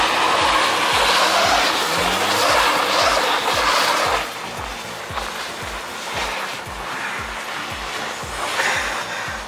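A Volvo 940 drifts with its tires squealing and skidding under a loud, pulsing engine drone. The squeal is strong at first and eases slightly halfway through, with no one talking.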